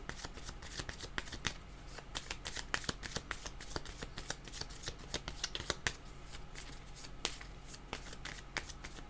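Tarot cards being shuffled, a dense rapid riffle of crisp card flicks continuing steadily throughout, close up and with no voice.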